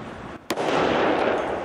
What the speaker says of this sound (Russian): Когда зажжен фитиль, петарду надо отбросить минимум на 2 метра.